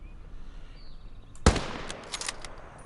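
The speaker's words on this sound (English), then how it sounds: "and we can fire a sniper rifle" A single sharp, loud sniper rifle shot fires in an infantry video game, followed by a short echoing tail and faint rattling debris after a quiet lead-in.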